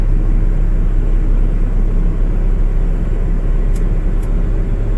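A 1965 Ford F100 pickup with a 300 straight six and three-on-the-tree manual, driving in second gear: a steady, loud low cabin drone with a faint gear whine blended into the engine and road rumble.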